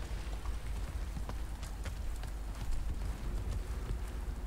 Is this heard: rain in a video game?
yes